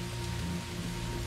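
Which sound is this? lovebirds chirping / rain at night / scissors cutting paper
rain at night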